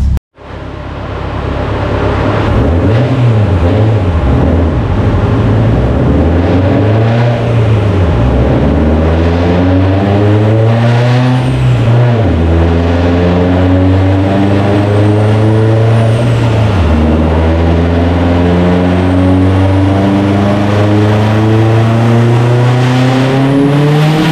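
A Subaru STI engine runs at 30 psi boost on a dyno, revving loudly through a long pull, its pitch climbing steadily, dropping at gear changes and climbing again, close and continuous.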